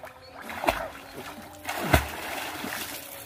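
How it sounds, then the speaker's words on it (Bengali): Several people swim, and the water gives two distinct close splashes over a quiet background with faint trickling and voices. "এই দেখুন সবাই সাঁতারে কাটছে এখন।"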